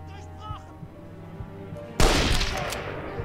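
Gunfire in the first-person shooter Enemy Front: after quieter game ambience, a loud, sudden burst of shots erupts midway and is followed by a sustained crackling barrage with echoing reports.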